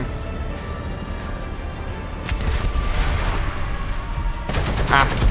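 Booming 120 mm cannon fire from an American M103 heavy tank and rattling shots in War Thunder roll over a constant engine-like rumble, growing louder and busier toward the end.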